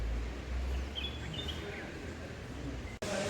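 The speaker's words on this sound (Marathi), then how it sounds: "पक्ष्यांचा किलबिलाट" Birds chirp faintly at a pilgrims' lodge in a quiet Konkan setting, a few brief high calls around one to two seconds in, heard at a distance over steady low background noise.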